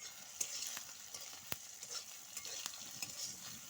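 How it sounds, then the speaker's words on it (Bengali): Potatoes and eggplant fry with neem leaves in a pan, a soft steady sizzle broken by repeated clicks and scrapes of stirring, fairly quiet and with no talk. "এই দেখো ভালো করে এইভাবে ঝরঝরে করে ভেজে নিতে হবে।"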